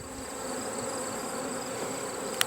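Agitated honeybees in a storm-damaged hive give off a dense, steady buzzing drone that fills the space up close, with a brief sharp click near the end.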